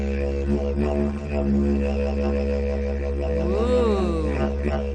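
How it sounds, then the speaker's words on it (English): A didgeridoo drone sounds alone, a steady, loud low buzz with shifting overtones and a rising-and-falling warble of voiced vowel shapes near the end. "If you guessed a didgeridoo, you're right."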